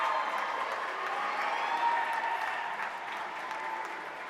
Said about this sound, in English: Everybody's cheering this guy on.